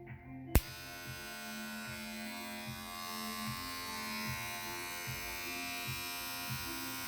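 WAHL lithium ion cordless professional hair clipper switched on with a click, then buzzing steadily with a close, even hum and slight rhythmic pulsing, fairly quiet and with no talking.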